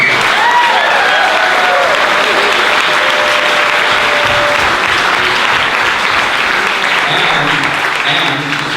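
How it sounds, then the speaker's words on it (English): Sustained applause from an audience at a Middlebury film festival awards event, loud and steady for the whole stretch before tapering slightly at the end, with faint voices mixed in. "Give Phoebe a round of applause, please."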